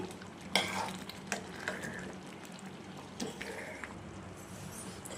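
Pea chaat with masala and coriander being stirred in a pan, a soft frying sizzle running throughout with several scraping clinks of the spoon against the pan, close up and fairly quiet.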